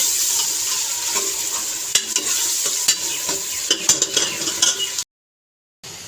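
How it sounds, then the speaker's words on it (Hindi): Potato and egg curry ingredients fry and get stirred in a pan, a steady bright sizzle with utensil scrapes and taps throughout, close and continuous until the sound cuts off near the end. "इसको अच्छे से फ्राई कर देंगे तब तक ये मेल्ट नहीं हो जाते"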